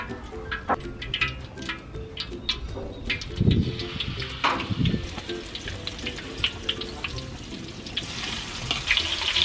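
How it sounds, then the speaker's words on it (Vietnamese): Banana fritters in batter frying in a pan of hot oil, a continuous crackling sizzle with scattered pops and spatters and a few clinks of utensils, close and steady throughout. "Rồi mình sẽ cho vào chảo dầu mình chiên."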